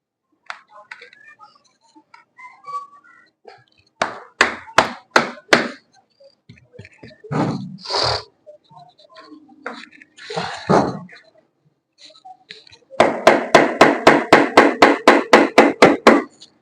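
Granite stone for a window frame being lightly tapped down into rough mortar with a hammer: a cluster of sharp knocks, a few scattered thuds, then a fast steady run of about fifteen close, crisp taps.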